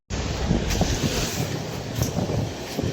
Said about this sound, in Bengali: বাইরে সেই লেভেলে বাতাস চলতেছে,